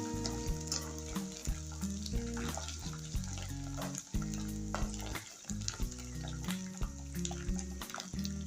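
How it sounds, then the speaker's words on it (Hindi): Onions with ginger-garlic paste fry in a pan for an egg and potato curry, giving a steady, close sizzle that runs the whole time beneath a bed of background music. "अब इसमें 1 टेबलस्पून लहसुन अदरक का पेस्ट डाल के इसको भी फ्राई कर लूँगी।"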